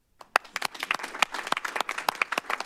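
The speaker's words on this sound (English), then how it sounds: "one more round of applause" Scattered audience clapping at a school board meeting, a brief round of distinct hand claps from a modest crowd, building in density over a couple of seconds.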